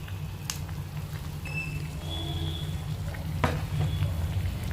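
Green chillies drop into a simmering fish head and potato curry, a steady soft sizzle and bubbling with a few sharp clinks of utensils against the pot.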